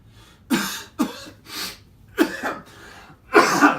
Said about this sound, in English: the way I do this is with a low guttural cough